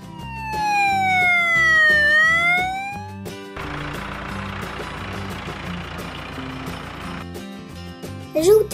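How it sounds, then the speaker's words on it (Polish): A silver police car's siren in a children's cartoon: a short rising and falling wail over music, then a rumbling vehicle or engine noise under the music that continues to the end. "Srebrny samochód policyjny."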